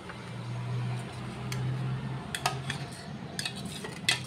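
A hair mask being mixed in a bowl, with a spoon clinking lightly against the sides in short, scattered taps that grow busier toward the end, close and fairly quiet.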